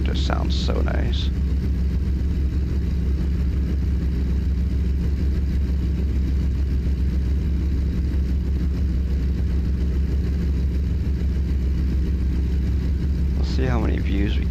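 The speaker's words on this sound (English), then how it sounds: "This truck just sounds so nice." A Kenworth W900 truck engine runs steadily, a continuous low rumbling drone that holds throughout, with brief voices near the start and the end.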